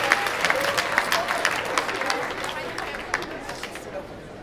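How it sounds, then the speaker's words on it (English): Audience at a post-prom hypnosis show applauds in a steady, dense patter of claps with crowd murmur, holding fairly even before tapering slightly. "Give these people a great round of applause."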